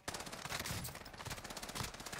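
Rapid automatic gunfire rattles through a video game shooter, dense bursts firing continuously for about two seconds at moderate volume.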